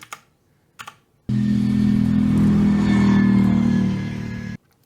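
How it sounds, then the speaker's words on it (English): A V8 twin-turbo car engine rumbles steadily with a low, throaty drone and a faint high whine on top, held for about three seconds after a couple of brief knocks. "It has a V8 sound to it, and it kind of has like that sort of like weird whine"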